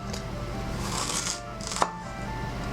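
Knife chopping pork ribs on a cutting board: a few scraping strokes close by, then a single sharp knock of the blade against the board, with no talking.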